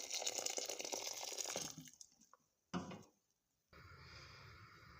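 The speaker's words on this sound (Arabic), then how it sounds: "هانتوما الماء طايب ضفتو حتى تغطى لينا اللحم ديالنا كامل" Boiled water poured from a kettle over beef trotters in a cooking pot, a bubbling stream for about two seconds, then a short splash and a quieter, steady liquid sound.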